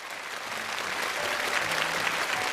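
A studio audience on a televised challenge show applauds in a sustained, even patter of many hands, moderately loud and continuous throughout.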